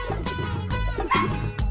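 A dog barks a few times in a short, busy burst, with overlapping yips and whimpering tones, close and moderately loud.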